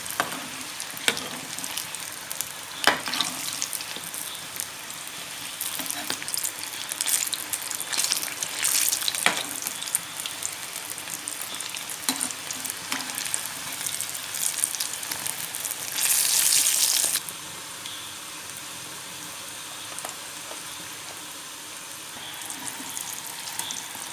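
Sukhiyan, Kerala's sweet fritters, frying in hot oil: a continuous bubbling sizzle lasts throughout, with occasional sharper pops and the scrape of a stirring tool, steady and close, and one louder hissing surge partway through.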